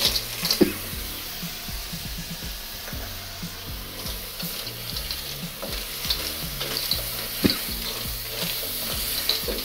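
Clams tossed into a thickening Thai chili sauce sizzle and crackle in a hot pan, with scattered clicks and scrapes of stirring over a steady frying hiss, close and fairly quiet.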